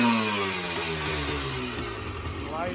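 A restored 1986 Honda ATC250r ATV engine runs close and loud with a steady, buzzing two-stroke idle that wavers slightly in pitch, while someone talks over it.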